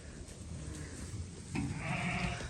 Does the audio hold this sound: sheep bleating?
yes